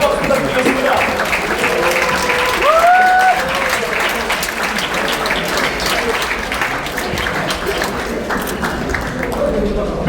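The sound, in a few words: audience applause and cheering at book launch ceremony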